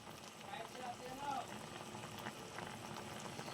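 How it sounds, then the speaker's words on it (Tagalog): Tilapia fish boils in a pot, a steady bubbling and gurgling that carries on without a break. A voice speaks quietly over the boil. "pinapakulo-pakuluan ko na lang po siya guys."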